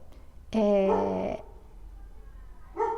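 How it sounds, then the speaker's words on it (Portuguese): A neighbours' dog barks nearby in two bursts: a long, strained bark that stretches into a whine, then a short bark after a pause. "São os vizinhos, não tem como eu pedir pro cachorro parar, né?"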